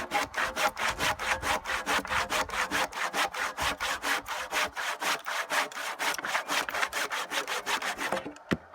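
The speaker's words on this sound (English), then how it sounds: "this is where I need my handsaw to finish out the very last little bit remaining" A handsaw finishing the last bit of a cut through wood, with steady, rhythmic back-and-forth rasping strokes, close and fairly loud, stopping abruptly near the end; no one speaks.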